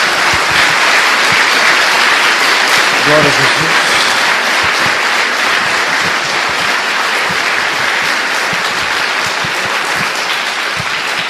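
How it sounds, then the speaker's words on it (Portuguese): A church congregation claps loudly and continuously in a thick, unbroken roar of applause that fills the room, with a preacher's voice rising briefly above it. "Dê uma salva de palmas ao nosso Deus."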